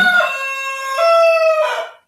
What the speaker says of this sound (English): Excuse me, Rooster, you're interrupting.